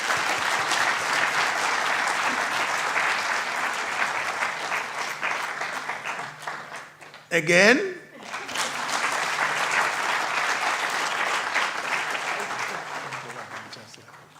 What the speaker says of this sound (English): May I request you to join me in clapping for the chancellors.